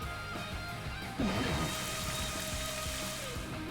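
Rain summoned by the Rain Dance move in a Pokemon Scarlet/Violet battle: a soft, steady patter of rainfall that swells slightly partway through, quiet and sitting under game music.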